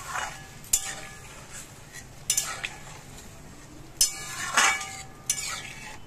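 Boiled chana dal is stirred into spices in a pan, with a few sharp spoon-on-metal scrapes and clinks over a faint sizzle, close by and sparse.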